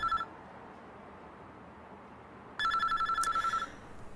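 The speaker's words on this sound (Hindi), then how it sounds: "फोन बज रहा है तुम्हारा।" A telephone rings in two bursts of bright electronic trilling, a short one at the start and a longer one about a second and a half later, separated by a quiet room with no speech.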